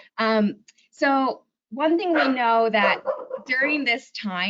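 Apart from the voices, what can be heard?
dog barking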